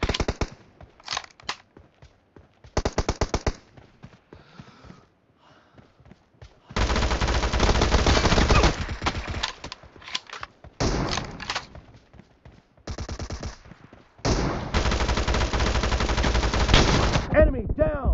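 A P90 submachine gun fires in a PUBG Mobile team deathmatch: quick taps and short bursts give way to long sustained streams of rapid fire, with brief pauses between strings.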